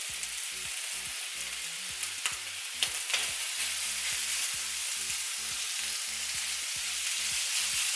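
Prawns sizzle on a home BBQ grill, with a constant, close crackling hiss and a few sharper pops, and faint low knocks in the background.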